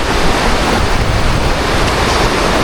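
Steady, continuous rush of a small waterfall fills the scene in a jungle, a broad hiss that stays constant throughout with no voices.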